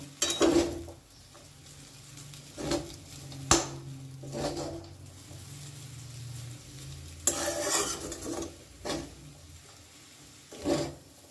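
Chow mein being tossed and stirred in a pan, with a spatula scraping and clinking against the metal in bursts of a few strokes and a soft sizzle beneath, close and moderately quiet.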